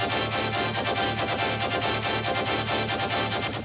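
Color bass built in Phase Plant, with chord and melody layers stacked over the main bass: a dense, loud, buzzing synth texture with a fast rhythmic pulse, playing alone throughout.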